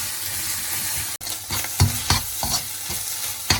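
Chicken fried rice sizzles steadily in a hot pan while a utensil scrapes and knocks through it in repeated close strokes, with no talking.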